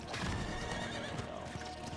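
A horse in the video game Diablo 4 lets out a clear whinny with clip-clopping hooves, set within a dense, noisy wash of game sound effects and music.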